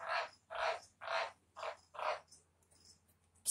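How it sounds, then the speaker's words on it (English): A pet frog croaks in five loud, evenly spaced calls close by, then falls quiet except for faint chirps. "It's just my frog."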